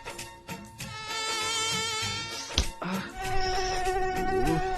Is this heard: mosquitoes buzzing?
yes